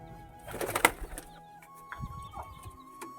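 Pigeons in a home loft, soft brief coos and rustling with a faint flutter, quiet and close with a few scattered clicks.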